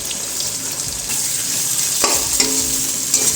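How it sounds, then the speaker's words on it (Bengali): Sliced onions fry in hot oil in a pan, giving a loud, steady sizzle close by, broken by a few stirring scrapes of a utensil against the pan. "এর মধ্যে আমরা ভালোভাবে এই পেঁয়াজগুলোকে লাল লাল করে ভেজে তুলে নেব"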